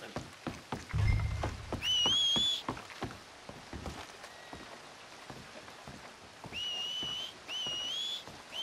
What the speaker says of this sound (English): Make a noise, whistle or something.